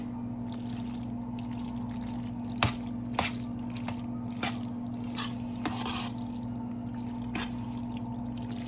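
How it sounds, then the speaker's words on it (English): A spoon stirs noodles through a chicken casserole mix in a dish, making several sharp wet clinks and soft squelches spaced over a steady low hum, with no one talking. "Stir it around. Get all of the noodles covered."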